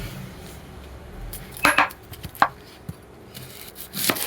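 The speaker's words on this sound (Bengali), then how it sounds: "এই আমার ছুরি, চলো পেঁয়াজ বানাইতে থাকি।" Knife chopping an onion on a board, a handful of irregular close taps and thuds spaced apart, moderately loud against a quiet room.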